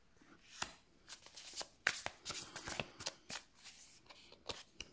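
Tarot cards are shuffled and drawn close up, a run of quick papery riffles and soft slaps with crisp broadband bursts spread over five seconds, faint and with no talking.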